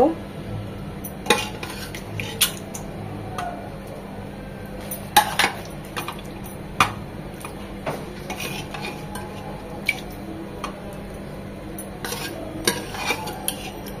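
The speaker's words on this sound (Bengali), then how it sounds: "এই পর্যায়ে আমরা মাংসগুলো দিয়ে দেব।" Spiced meat with bone and fat being added into a pot of nearly cooked dal: metal utensils clink and scrape against the pot in irregular knocks over a soft simmering bed, close by and fairly quiet.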